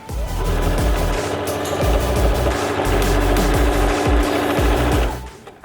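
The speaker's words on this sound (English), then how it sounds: "Sink the needle into where your top stitching ended last time. Do a quick little back stitch." Sewing machine top stitching and back stitching dungarees, a steady, loud mechanical whirr with a rapid needle rhythm running for about five seconds before stopping.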